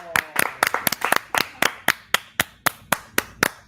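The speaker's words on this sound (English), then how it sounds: "let's clap for Paul" Sparse convention audience clapping at a collectibles event, a small group producing distinct, sharp claps in an uneven rhythm, with a voice briefly audible at the start.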